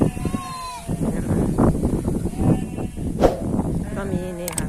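Goats and sheep at a farm bleat repeatedly at close range, several wavering cries overlapping amid general barnyard shuffling, with someone speaking over them.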